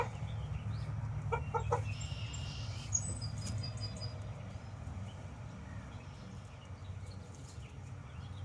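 Broody hen sitting on a nest, giving a few soft, short clucks and low murmurs early on, faint and close, over a steady low background hum with some distant chirps.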